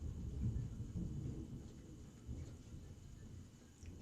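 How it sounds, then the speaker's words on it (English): Rolling thunder rumbles low and fairly faint in the distance, swelling and fading over several seconds with no voices. "That thunder be rolling."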